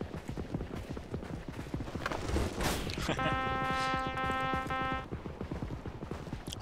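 Horse hooves galloping in a medieval video game, a steady rapid clip-clop running throughout at moderate loudness, mixed with game music and effects, with people talking over it.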